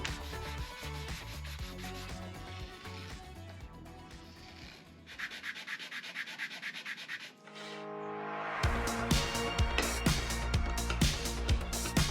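Fine 220-grit sandpaper rubbing over a small wooden ring box, a steady scratchy back-and-forth rasp that stays close and fairly loud, growing busier and brighter toward the end, with no talking.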